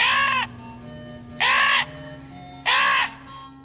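A crow in a children's story caws three times, each harsh, ringing call lasting about half a second with even pauses between, loud and close over a quiet low hum.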